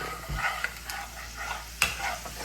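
Okra curry being stirred in a pan, with scraping strokes and soft sizzling that rise and fall over a couple of seconds, close and fairly quiet, no talking.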